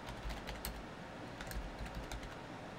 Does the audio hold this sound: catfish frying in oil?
no